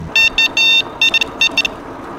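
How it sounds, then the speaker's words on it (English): The electric horn on a Mooncool TK1 single-speed electric bike sounds in a quick series of loud, bright beeps, several short toots and one longer blast, close by with faint outdoor background. "Just simply honk the horn and people will look at you."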